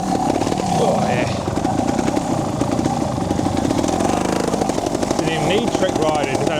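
A trials motorcycle engine revs and bursts unevenly as it is ridden through a tight gully section over logs, loud and close throughout, with a voice heard over the engine.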